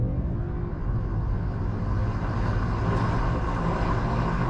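A car fitted with a JB+ piggyback tune accelerates hard. Its engine gives a steady, loud, low rumble heard from inside the cabin, with no other sounds.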